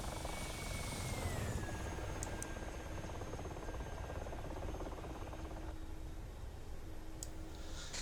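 Mi-24 Hind attack helicopter in a combat video game, its steady rotor and turbine roar filling the whole stretch at constant loudness, with a high whine that slides down in pitch early on and brief sharp clicks near the end.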